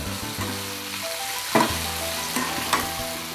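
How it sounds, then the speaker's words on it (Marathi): Goli idli mixture being stirred with coriander in a hot pan, a constant sizzle with a low steady hum and a few sharp scrapes of the spoon against the pan. "कोथिंबीर टाकून मी मिक्स करून घेते"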